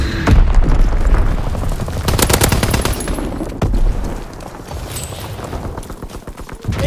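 Fighter plane strafing gunfire in the video game Call of Duty WWII, loud rapid bursts of automatic fire with booming impacts, dense and close throughout.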